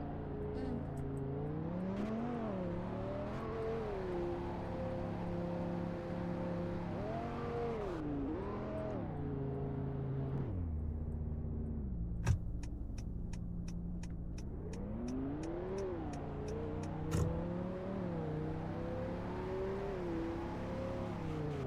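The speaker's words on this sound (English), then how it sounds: "Let's go take it out for a test drive." A new car with a carbon fiber cover on the gear stick drives on a sunny test drive, its engine humming steadily and rising and falling in pitch as it shifts and accelerates, with a couple of sharp clicks.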